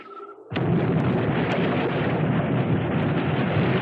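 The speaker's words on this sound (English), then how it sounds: "The force of the explosion in the tunnel lifted the ground above the tunnel" Blast from an explosion blowing open a tunnel entrance near a castle: a sudden loud boom about half a second in, followed by a sustained heavy rumble of debris and roar that carries to the end, with no talk.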